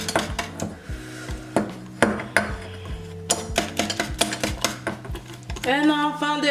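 A spoon clinks and taps repeatedly against a bowl while stirring a melted mixture that has partly burned. The irregular knocks sit over steady background music, and singing rises near the end.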